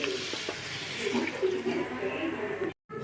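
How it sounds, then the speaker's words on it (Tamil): Ground coconut paste is poured into simmering masala for an egg curry (muttai kuzhambu), giving a steady, wet, close-up pouring and sizzling sound that cuts off abruptly near the end. "தேங்காவை அரைச்சி வச்சுருக்க தேங்காவை ஊற்றிடலாம்"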